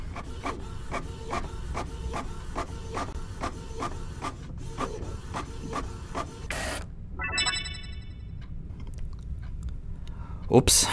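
Desktop printer in a hospital emergency department printing a page, a regular mechanical pulse of feed strokes repeating steadily, then a pause and a burst of faster whirring, with brief voices at the end.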